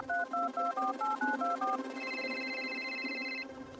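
A mobile phone places a call: a quick run of keypad dial beeps, then a steady electronic ringback tone that holds for about a second and a half before cutting off, all fairly close over a low background hum.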